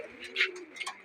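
Pigeons in a home loft, among them a young newly arrived bird, coo in a soft rolling call with a few brighter chirps and flutters breaking in.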